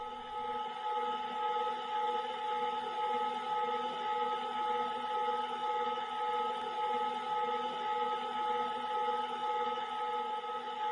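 A metal lathe turns down the middle of a dog bone part, a steady machine whine with layered tones holding even for the whole stretch, no voices over it.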